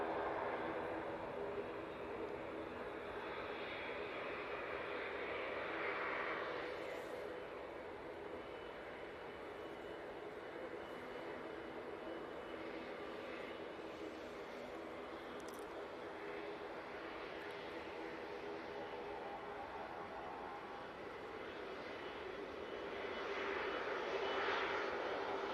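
An Emirates airliner arriving at Manchester Airport from Dubai produces a continuous jet-engine roar, heard from a distance, that swells slightly early on and again near the end.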